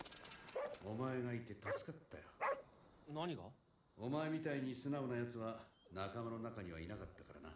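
A happy dog in the video game Ghostwire: Tokyo makes a series of drawn-out, tonal yips and whimpering barks, fairly close and repeated in uneven bursts.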